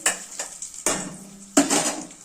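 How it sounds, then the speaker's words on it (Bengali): Cardamom and cashews fry lightly in a little ghee as a spoon scrapes across the pan in three distinct strokes, over a soft sizzle at close range. "অল্প ঘি দিয়ে এলাচ দেবো আর অল্প কয়েকটা কাজু দেবো। দিয়ে এটাকে হালকা একটু ফ্রাই করে নিয়ে"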